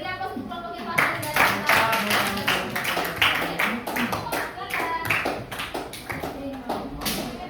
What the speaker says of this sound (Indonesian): Oke, beri aplaus untuk kelompok yang pasang dari